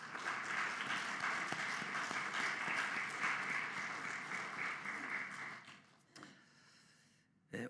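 A church congregation applauds together in sustained, dense clapping that holds steady for several seconds, then thins and fades to a few scattered claps and near silence at the end.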